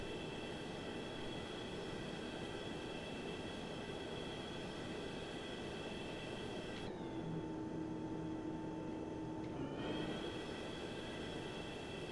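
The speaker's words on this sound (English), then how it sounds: "We got 2 good starts, both engines." Airliner jet engines idle steadily after start, heard faintly from inside the aircraft as a constant hum and whine, with a brief tonal change partway through and no talk.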